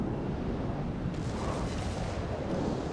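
Warship guns fire in a naval video game, a dense rumbling roar of heavy booms blending into continuous low thunder, loud and sustained with no talk.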